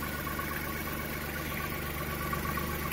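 A Kubota L3800 tractor diesel engine idles with a block heater fitted, a steady, even, close drone with a constant low rumble and no talk over it.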